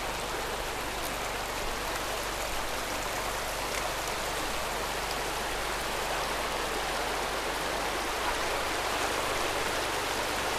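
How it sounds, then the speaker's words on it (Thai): Flowing water pours steadily in a simulated waterfall, a dense, even rushing hiss that stays loud and unbroken the whole time, with no voices over it. "เนี่ยเสียงน้ำเนี่ยมันได้ยินไปถึงนู่น"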